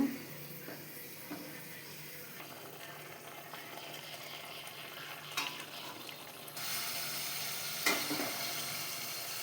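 Pabda fish pieces are added one by one to a spicy gravy, with a low continuous sizzle and bubbling that grows louder partway through, plus occasional stirring clinks.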